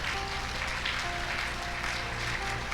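A church congregation applauds in a steady, continuous wash of clapping, with a sustained musical tone underneath throughout.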